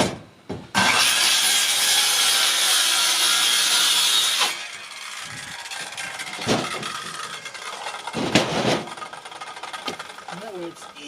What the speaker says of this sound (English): This plywood is very awkward, so I'm gonna just cut this.